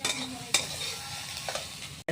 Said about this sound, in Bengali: পেঁয়াজও দিয়ে দিয়েছি, সোয়াবিনটাকে ভাজা করে নিচ্ছি একটু।